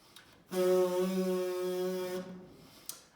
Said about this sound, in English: where we tighten them up and then we release air really fast that creates a buzzing